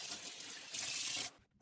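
Tap water runs steadily into a sink while a raw beef tongue is washed under it, a broadband hiss that swells louder midway, then cuts off abruptly near the end.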